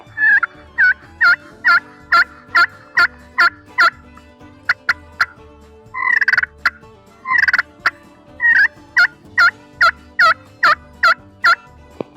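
A Primos Power Crystal turkey call imitates a turkey with loud, close, rhythmic series of yelps and clucks, repeated in quick even bursts with short pauses.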